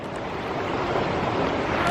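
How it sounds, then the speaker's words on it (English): Water flowing across a hiking trail near a waterfall outside Los Angeles, a steady broadband rush that stays loud and close the whole time, with no voices. "The water is flowing very nicely and is covered up the trail."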